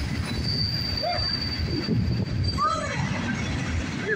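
CSX mixed freight train rolling over a bridge in downtown Dayton, steady loud rumble of railcars with intermittent high squealing wheels, heard close, with voices faintly underneath.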